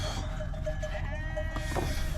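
Sheep bleating a few times with a wavering, nasal tone, set against a steady low rumble like an idling engine.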